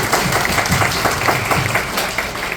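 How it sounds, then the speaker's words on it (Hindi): Loud audience applause at a Hindi inspirational talk, dense steady clapping filling the room with a faint voice underneath. "और एक जोरदार ताली।"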